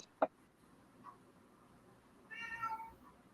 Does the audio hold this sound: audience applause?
no